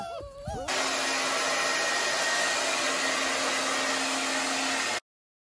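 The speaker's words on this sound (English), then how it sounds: "my hairdryer killed the house" A hair dryer roars loudly and steadily for several seconds after a brief voice, then cuts off abruptly into silence as it trips the power on an off-grid farm.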